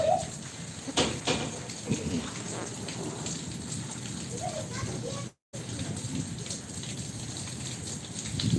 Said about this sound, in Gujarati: આગાહી કરવામાં આવી હતી એ પ્રમાણનો વરસાદ વરસી રહ્યો છે